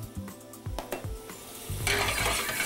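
Garlic and red pepper flakes sizzle in a hot pan, a soft crackling hiss punctuated by a few spoon-and-pan clinks and stirring knocks, the frying swelling louder toward the end.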